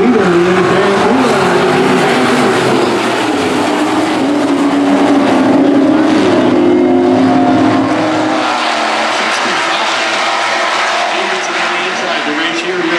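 B-mod race cars roar around a dirt track at a Mountain State Mod Tour night at Big Sky, a loud continuous engine drone that swells and fades as the pack passes, with a commentator talking over it.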